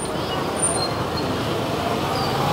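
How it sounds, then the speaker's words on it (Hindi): Steady dense roar of traffic at a busy main crossing in Shakti Nagar, Amritsar, a continuous wash of engines and road noise at constant loudness with faint high tones that may be distant horns. "तो काफ़ी यहाँ पे ट्रैफिक है, उसकी साउंड आ रही होगी"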